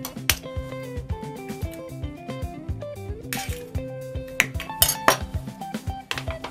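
Cookie dough mixed with an egg in a bowl: quick, rhythmic clinks and knocks of a utensil against the bowl, close and fairly loud, with no speech.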